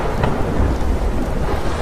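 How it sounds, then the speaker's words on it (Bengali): Thunder rumbles loudly through a heavy rainstorm, a deep rolling crash over steady rain hiss, close and sustained for the whole moment. "তুমুল ঝড় বৃষ্টি শুরু হলো, আর সেই রকম বাজ পড়ার শব্দ"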